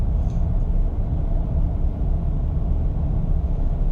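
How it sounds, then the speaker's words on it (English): Steady road and wind noise fills the cabin of a 2019 Honda Fit EX with a CVT, riding on Firestone tires at cruising speed, a continuous low rumbling roar with a soft rush of air, no talking. "You do hear a tiny bit of wind noise, and also some road noise due to the Firestone tires on this car."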